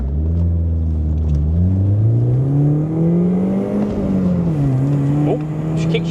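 A BMW E36 318is four-cylinder engine revs up loud and close from inside the car, its pitch climbing steadily, dipping briefly and rising again in a continuous droning pull.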